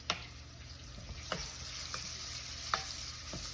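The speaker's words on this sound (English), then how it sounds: "we just let the onions cook. Cooking the onions." Onions cooking in a pan for a quick cabbage dish, a soft continuous sizzle broken by a few sharp utensil taps and stirs spaced about a second apart.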